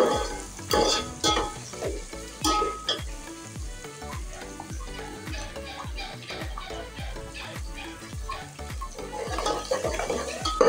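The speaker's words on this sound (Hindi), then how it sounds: "उसमें लहसुन अदरक का पेस्ट ऐड कर लिया। अच्छे से मिक्स करें।" Garlic-ginger paste and green chili paste stirred in a hot pan for vegetable pulao, with a rapid, steady run of spoon scrapes over a continuous sizzle, close and fairly loud, no voices.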